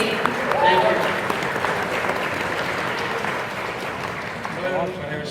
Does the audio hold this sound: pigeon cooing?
no